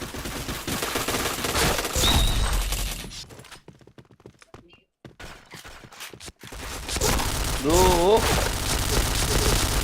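Heavy gunfire in a shooting video game: dense volleys of loud shots, a short lull partway through, then rapid firing again, with someone speaking over it.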